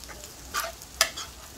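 Fried rice with hotdog stirred in a frying pan over a faint steady sizzle, with two distinct scraping strokes of the utensil against the pan, close and clear.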